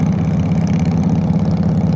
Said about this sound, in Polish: Ja nie słyszę swojego motocykla, bo ten koleś ma rury takie przelotowe